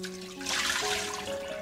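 Water drains out through the holes of orchid pots in a brief, close splash and trickle that swells and then eases into a steady dribble.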